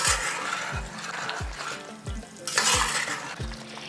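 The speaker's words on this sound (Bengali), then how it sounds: "এরপরে গ্যাসটাকে মিডিয়াম ফ্লেমে রেখে হালকা আঁচে এটাকে কষিয়ে নেব" Mutton sautéed over a medium flame, with a steady loud sizzle and rhythmic stirring scrapes about twice a second, close up and without talk.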